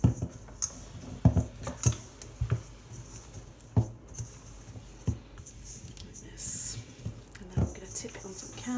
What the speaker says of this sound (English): I'm just going to peel the bread away from the sides of the bowl